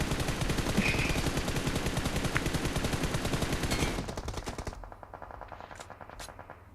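Rapid automatic gunfire from a PUBG Mobile match, a loud dense burst of shots running for several seconds before thinning out and fading.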